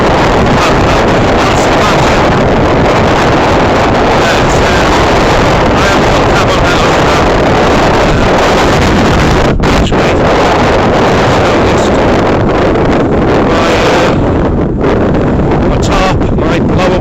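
Strong wind buffets the microphone continuously, a loud, rough roar with gusty surges throughout, likely outdoors on open water.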